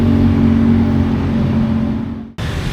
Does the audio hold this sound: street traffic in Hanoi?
yes